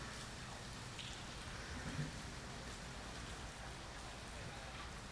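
Heavy rain pouring at an outdoor water-ski competition, a continuous dense hiss of rainfall on surfaces, faint and steady with no clear voices.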